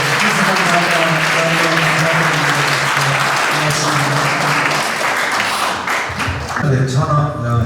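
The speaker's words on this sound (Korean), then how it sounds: "뜨거운 박수 한번 부탁드립니다." Warm audience applause at a church seminar, loud dense clapping filling the hall, with a sustained musical tone underneath that fades near the end while the clapping continues.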